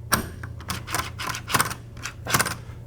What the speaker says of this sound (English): Now my inside lever, we're reusing. I just snap it on. You'll hear it go click.